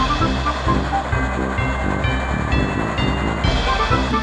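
A model railroad train runs on its layout, with a steady low rumble and repeated rhythmic clicking of wheels on track joints, loud and continuous with no voices.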